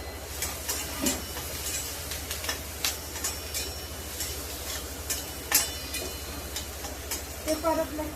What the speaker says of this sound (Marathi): त्यानंतर कढीपत्ता टाकते.